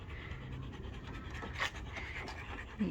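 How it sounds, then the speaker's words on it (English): Dogs panting steadily outdoors in a park, rapid breathy huffs close by with a couple of brief louder bursts, no talking. "You happy doggies?"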